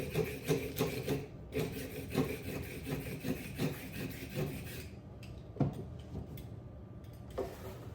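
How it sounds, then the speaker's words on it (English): Carrots are rubbed against a grater in a quick series of rasping strokes, close and fairly quiet, with a pause and a few more scrapes near the end. "I'm going to peel and grate the carrots."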